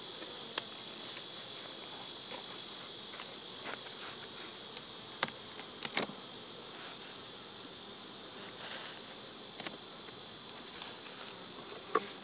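A steady high buzzing hum of honey bees fills the air, with occasional faint clicks and taps over the constant drone.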